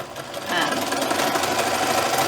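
Sewing machine running steadily while back stitching over elastic on a homemade fabric sleep mask, a continuous close mechanical whirring hum with a slight rise after the start.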